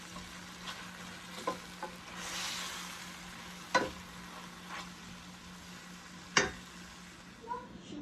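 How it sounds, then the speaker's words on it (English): Spinach wilts in a pan under a soft, faint sizzle, broken by a few scattered scraping stirs and clicks of a utensil. "we're going to add the rest of our spinach in. And cook that until it is all wilted."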